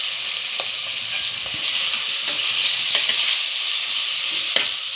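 Turmeric and ginger-garlic paste fry in hot oil for carrot rice, giving a loud, steady, close hiss of sizzling broken by a few light taps of a stirring spoon against the pan.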